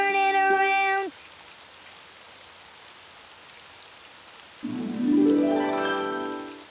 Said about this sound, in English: It's raining outside.